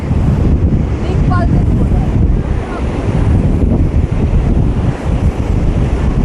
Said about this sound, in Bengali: এই যে সমুদ্র কি গর্জন তার